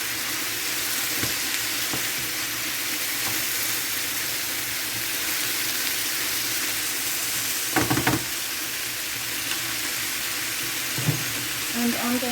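Pork and vegetables stir-frying with spring onion just added, a steady hissing sizzle running throughout, with a short clatter of tossing or stirring near the middle and a few faint knocks.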